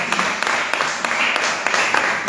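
A church congregation claps together in steady, dense applause that holds evenly for a couple of seconds, loud and close, with a few sharper individual claps standing out from the crowd.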